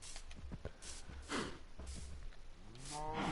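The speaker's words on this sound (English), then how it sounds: "look at all these cows I have" Cows mooing in the Minecraft video game, a few low, soft bovine calls and snorts at modest volume, with a longer moo rising near the end.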